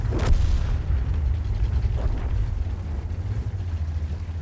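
A Jagdpanzer E 100 tank destroyer fires its heavy gun in World of Tanks: a deep booming blast at the start, then a long low rumbling roar with engine and battlefield ambience, no talk.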